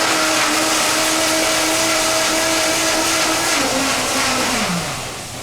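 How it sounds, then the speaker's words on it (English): Food processor whirring steadily as it purees roasted tomato salsa with salt and cider vinegar, a close, loud continuous motor drone whose pitch drops as it winds down near the end. "So go ahead and process that to a nice puree."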